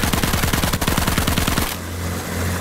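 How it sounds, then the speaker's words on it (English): Rapid machine gun fire in a video game, a dense burst of rattling shots lasting under two seconds before cutting to a low steady engine hum. "when you press control, Jaeger, I just hear a machine gun."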